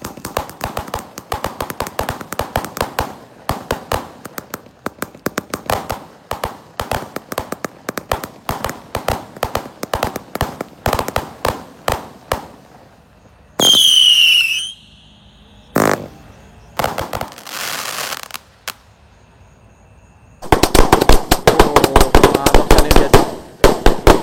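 A 94-shot Roman candle firework launches in a long run of sharp pops in quick rhythmic succession during a Ramadan night. The firing pauses briefly before the bursts resume loudly to the end.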